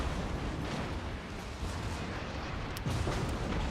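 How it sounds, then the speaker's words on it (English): Heavy warship gunfire and explosions from a World of Warships battle aboard the battleship Grosser Kurfürst, a continuous loud rumbling roar with sharp booming hits, no talk. "Damn, them explosions are loud."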